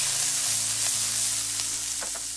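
Julienne carrots crackle and hiss in hot olive oil in a pan, a loud, even sizzle with a few sharper pops.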